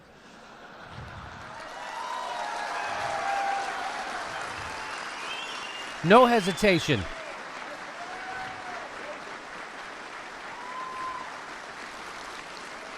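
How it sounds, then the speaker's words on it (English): A room full of police officers applauds steadily, with loud whoops and hollers rising briefly in the middle over the sustained clapping. Someone speaks a few words as the applause continues. "They're still applauding. They didn't stop. They're hooting and hollering."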